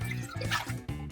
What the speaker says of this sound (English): Then pour in your soy milk